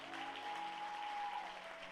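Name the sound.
applause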